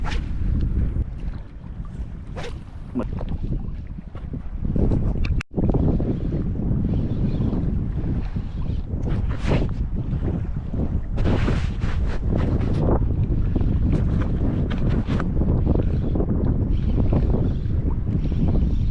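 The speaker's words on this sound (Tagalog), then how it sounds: "Salubong tayo sa hangin." Strong wind buffets and roars across the microphone with gusty swells and rushing noise, over what sounds like open water.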